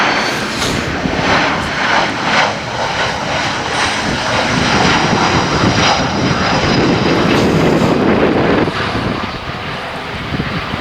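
A Brussels Airlines Airbus A319 jet passes at night at an airport with a loud, steady engine roar that swells slightly toward its peak and then starts to ease off near the end, with no talking.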